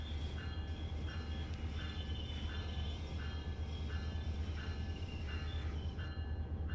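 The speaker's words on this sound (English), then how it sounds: "Did that train over on our right get out before us?" Train rumbling past in Train Sim World 4: a steady low rolling drone with a faint repeating clack, heard at a fairly low level with no talk over it.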